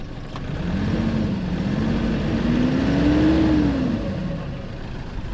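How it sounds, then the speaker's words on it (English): Engine of a manual car idling and slowly rising in pitch while the driver tries to reverse, a steady mid-low drone that swells and falls back, with no talk. "He says that he wants to try to reverse a manual car."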